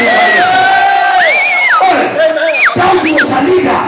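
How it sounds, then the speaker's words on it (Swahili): A church congregation cheers and ululates loudly, with high wavering trills rising over a dense crowd roar that carries close and continuous throughout. "Mpige shangwe na vigelegele."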